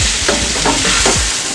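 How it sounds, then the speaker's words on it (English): Plantain pieces stir-fry in a little oil for a vegan dodo gizzard alternative, filling the moment with a loud, steady sizzle, while a utensil scrapes and knocks against the pan in a few rhythmic strokes. "Don't add too much oil while stir frying, because you are not frying, you are actually stir frying it."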